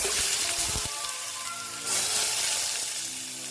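Chopped onions dropped into hot oil for a Bengali egg dish, setting off a loud, steady sizzle and crackle close by, with a brief stir and a surge of frying noise partway through, and no talking.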